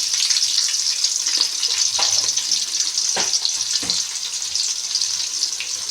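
Ingredients for an egg tomato pulao, dusted with turmeric, being mixed in a frying pan: a loud, continuous hissing sizzle broken by a few sharp scrapes of the spatula.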